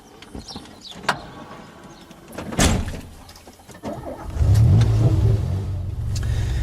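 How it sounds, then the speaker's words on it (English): A DeLorean DMC-12 car runs with a medium engine, quiet at first with a few sharp clicks and a brief surge, then revving up into a sustained, louder low drone toward the end. "today we're driving the Delorean DMC 12"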